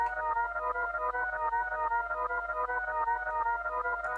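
Reversed piano chord sample treated with EQ, reverb, sidechain compression and limiting in an FL Studio trap/drill beat, swelling tones pulsing in a steady rhythmic pattern, played alone without talk.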